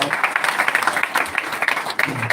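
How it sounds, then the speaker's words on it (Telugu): A crowd at a gospel meeting applauds with steady, dense clapping that holds throughout, fairly close and lively. "కొంచెం క్లాప్స్ కొట్టి అభినందించండి"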